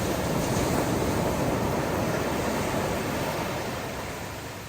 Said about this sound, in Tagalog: Nakakatakot ang alon.